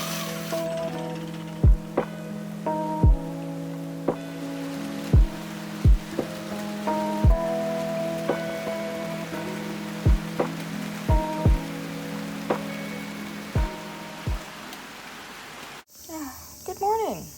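Rain falls outside a house in Japan: a steady soft patter with sharp, separate drips striking a hard surface at irregular intervals, fairly close. The sound drops away abruptly near the end.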